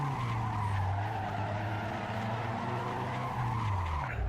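Ferrari tires squealing through a donut in a video game, a continuous loud screech over a droning engine that holds steady for several seconds.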